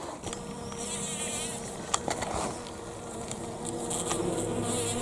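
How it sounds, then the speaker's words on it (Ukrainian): Steady insect buzzing close by, a furry bumblebee droning continuously with a few brief louder passes over faint outdoor background. "Ось який волохатий джміль. Разом із бджолами збирають нектар."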